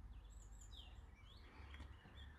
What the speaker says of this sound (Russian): Надеюсь, вам слышно, как поют птицы.